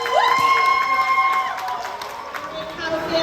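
Families at an Urban Cultural Arts story-time painting event applaud and cheer, with children shouting and whooping in a lively crowd; a few high tonal squeals stand out near the start over the clapping.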